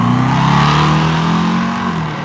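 A drag race car launches hard off the line at a drag strip and pulls down the track, its engine note loud and sustained, rising steadily, with no talk over it.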